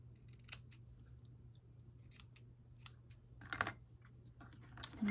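Scissors trim the frayed edge of a decorated boho-style paper tag close up, giving a few light, quiet snips over a steady low hum with no one talking.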